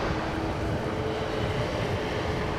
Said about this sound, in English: No reverser landing